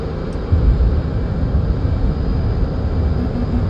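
A simulated F/A-18 Hornet jet in the DCS flight game gives a steady, low engine roar and rumble, a continuous broadband drone held at an even level throughout a demo display flight.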